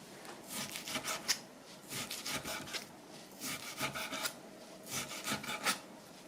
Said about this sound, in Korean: 고기를 썰어 보겠습니다.